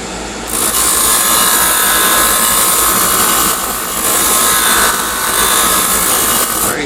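A wood lathe spinning as a tool trims the base of a turned chess knight, a loud continuous abrasive cutting roar that swells and eases in two long passes.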